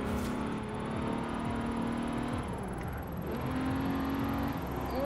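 A Ford Capri's engine drones steadily in Forza Horizon 4, a continuous low hum with a slight rise in revs midway and faint whine layered above, no voices present.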